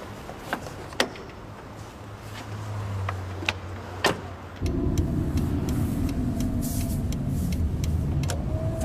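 A car engine hums low and steady while driving, with a few door or window clunks early on before the engine note swells louder and holds for the rest of the stretch.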